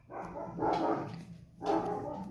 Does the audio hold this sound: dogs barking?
yes